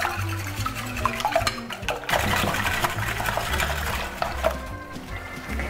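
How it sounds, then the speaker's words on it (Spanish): Eggs are whisked in a bowl for a tortilla de patata, producing a fast, continuous rhythmic beating and tapping close by, with a brief pause around the two-second mark. "Vamos a batir el huevo"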